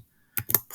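A few quick keystrokes on a computer keyboard, close and fairly quiet, come after a short silence as bursts of clicks in the last half second, with no talking.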